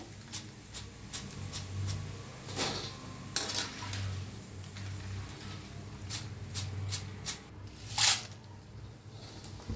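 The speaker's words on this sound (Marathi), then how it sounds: "खूप छान लागतो हे खायला मक्काचा चिवडा बघा कसा आवाज ये लागलाय" Crispy fried corn chivda is tossed and stirred in a pan, making intermittent dry clattering and rustling crunches at close range, fairly quiet, with no speech.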